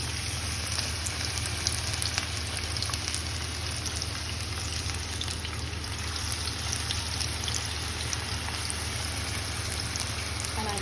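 Battered masala fish pieces frying in a large pan of hot oil, three pieces at once, giving a steady, dense sizzle that holds evenly throughout with no talking.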